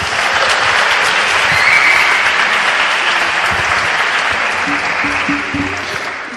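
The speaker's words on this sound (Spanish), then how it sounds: "pido un fuerte aplauso para el primer cómico de la noche" A comedy audience at a student science congress gives a loud, steady round of applause that holds for several seconds and then tapers slightly as a voice begins to speak.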